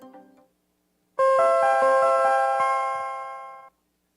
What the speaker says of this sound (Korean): 이게 지하철 문 닫힐 때 경고음이